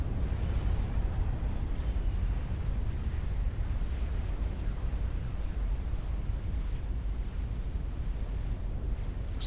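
Continuous heavy rumbling and booming of massed explosions and super weapon fire in a late-game Supreme Commander real-time strategy battle. The roar stays dense and loud throughout, with no talk.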